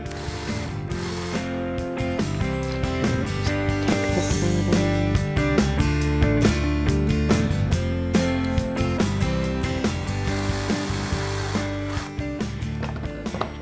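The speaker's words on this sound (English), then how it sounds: "take our little wood screw and we just pop it in" A small wood screw driven into a dowel saddle for an indoor plant stand, heard as a close, steady run of rapid ratcheting clicks from a driver lasting the whole stretch, no talk.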